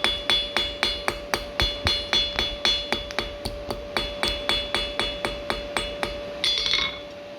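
A hammer strikes hot metal on an anvil while forging a leaf key ring, in a steady rhythm, about three blows a second, each a sharp bright ring with a sustained tone.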